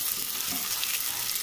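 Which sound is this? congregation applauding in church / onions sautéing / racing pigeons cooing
onions sautéing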